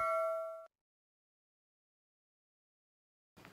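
A single bright electronic bell-icon notification ding rings clearly and fades within a second, followed by near silence and a brief soft noise at the very end.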